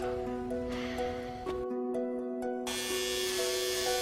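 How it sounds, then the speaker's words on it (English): An electric razor shaving hair off a head, a steady buzzing hum with a drop in pitch and a brief cutout midway before it resumes, close up with no talking. "So just help me shave my hair."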